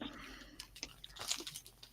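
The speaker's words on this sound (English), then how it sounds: "I'm eating granola. Sorry if you hear me crunching." Close, quiet crunching as granola is chewed, a steady series of small crackly bites with no talking.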